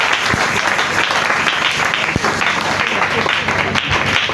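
A church congregation at a Sunday celebration service applauds loudly, with dense, steady clapping that keeps up throughout and a few voices mixed in.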